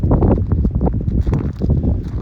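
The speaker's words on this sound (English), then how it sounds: "it's a bit windy today, so I'm hoping you can hear me okay" Heavy wind buffeting a microphone produces a loud, rumbling low roar with uneven gusts throughout.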